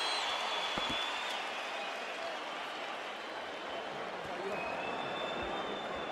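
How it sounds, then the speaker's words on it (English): A large boxing arena crowd applauds steadily at a bout between Oscar De La Hoya and Floyd Mayweather, a dense, even wash of clapping and crowd noise that holds throughout. "And the crowd appreciates both."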